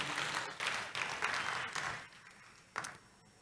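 A church congregation claps during a Sunday service, a brief burst of applause that rises in waves and fades, with a short final flurry near the end.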